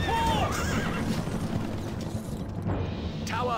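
A horse neighs loudly at the start and again near the end in the video game Stronghold Crusader, over steady thudding hoof beats and a low rumbling background.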